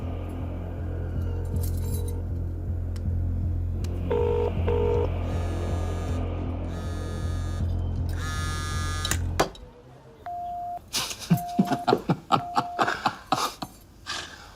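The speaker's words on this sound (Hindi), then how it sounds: "चल फोन लगा उसे।" A telephone on speakerphone is dialed: a steady buzzing hum runs under short electronic beeps and rising tones, then repeated clicks and short tone bursts as the call connects.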